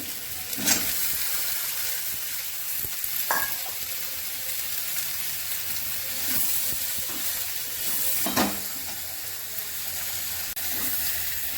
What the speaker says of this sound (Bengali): এবার আমি এঁচোড় দিয়ে একসঙ্গে কষাবো।